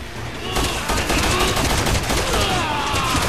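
Rapid gunfire from the video game Resident Evil 6, a dense continuous fusillade of shots running through the whole stretch at steady loudness, with faint voices underneath.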